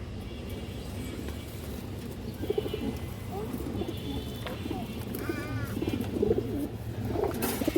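Pigeons coo softly now and then, including a red-geared female among a pair of pet pigeons. Someone talks over them and faint traffic hums beneath.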